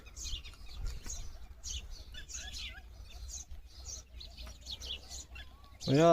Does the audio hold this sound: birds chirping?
yes